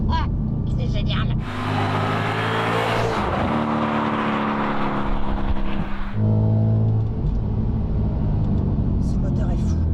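An Audi RS4 B7 V8 with an APR supercharger kit pulls hard from inside the car, engine roaring and climbing through revs, dropping and surging again, with excited voices talking over it.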